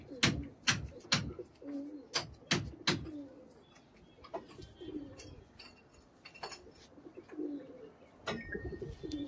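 Pigeons kept as a pair give soft, low cooing calls, repeated in short phrases close to the microphone, mixed with sharp clicks and faint handling noise.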